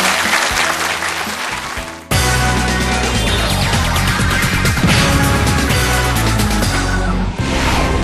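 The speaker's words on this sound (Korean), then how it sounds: "자, 우리 이숙자 선생님께 따뜻한 격려의 박수 보내주시겠습니까?" Studio audience on a Korean KBS citizen-ideas program applauds for a guest, Lee Suk-ja, a dense sustained clapping over background music that carries on for several seconds, dropping briefly and then continuing.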